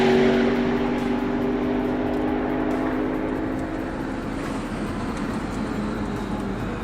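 McLaren P1 supercar accelerating down a track's main straight, a loud, steady engine roar with a strong low tone and a rising, rushing drone as speed builds, continuous with no talking.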